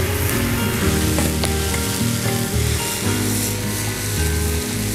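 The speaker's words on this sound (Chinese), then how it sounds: "大火翻炒均匀。" Chicken giblets hiss and crackle as they are stir-fried over high heat in hot rapeseed oil with pickled peppers, Sichuan peppercorns, pickled ginger and chili bean paste. The sizzle is loud, close and continuous, with no talking.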